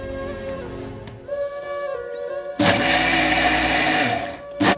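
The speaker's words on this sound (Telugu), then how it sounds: "ఈ 2 కలుపుకొని మళ్ళీ మనము ఒక 1 minute మిక్సీలో కొట్టుకోవాలి." A mixie blender whirs loudly through a mango kulfi mixture with cardamom powder, preceded by quieter tonal kitchen sounds, then a steady broadband motor roar that cuts off sharply near the end.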